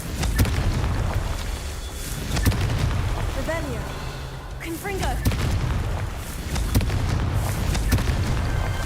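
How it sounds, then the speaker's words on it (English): Rocks blasted apart with the Confringo spell in Hogwarts Legacy, several heavy booms at intervals with crumbling debris and whooshing spell effects, while someone talks throughout. "We just got to blow up the rocks."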